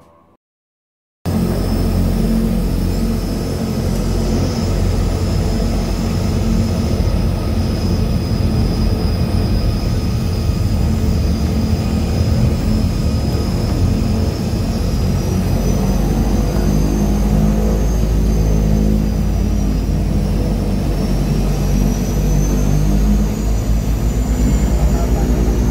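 A seaplane's propeller engine drones steadily in flight, heard from inside the cabin. The loud, constant roar with a faint high whine runs unbroken for about 25 seconds after a brief silent start.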